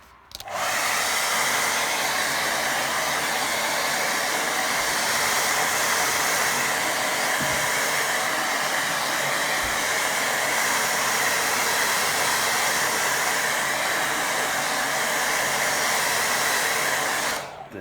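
A hair dryer blowing on a watercolour beach painting, a loud, steady close-up whooshing roar that starts abruptly, holds for around sixteen seconds and then cuts off.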